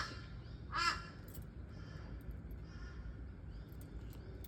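A crow gives a single loud caw, calling to its mate, over a steady low outdoor rumble, followed by faint, scattered sounds.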